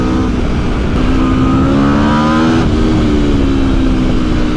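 A 2021 Aprilia RSV4 Factory sportbike engine pulls hard on an open road, a loud, close, steady roar with rising pitch through the gears and no talking.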